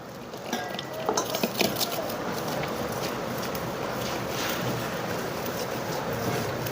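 Ingredients for bhaji curry stirred in a pot, faint clinks and scrapes of a spoon against metal in a few quick bursts early on, over a steady low background hiss and rumble.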